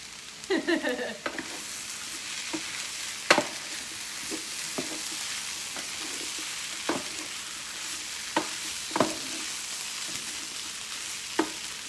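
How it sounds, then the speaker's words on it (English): Food fries in a pan on high heat, giving a constant crackling sizzle broken by sharp scrapes and clacks of stirring, loud and close, with no talking. "My pan is still on high here, so I'm still getting some brown on the bottom"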